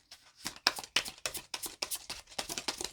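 Lenormand cards are shuffled by hand in a quick run of papery riffles and slaps, about a dozen bursts in steady rhythm, close and fairly quiet with no talking.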